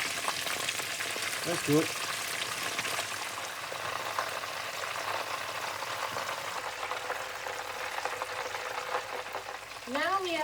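Prawns fry in hot oil for a second, crisping round of frying, with a steady crackling sizzle close by that continues throughout while a voice speaks briefly.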